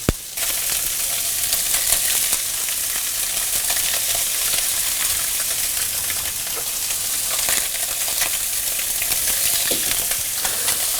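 Perch fillets frying in a hot pan give a loud, continuous sizzle up close, a dense, even crackle that runs without a break for the whole stretch.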